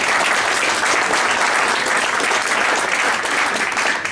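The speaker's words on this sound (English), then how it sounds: "Let's give them a round of applause" Dense, steady applause fills a room at a county Republican Party meeting after committee members are sworn in, loud and sustained throughout without a break.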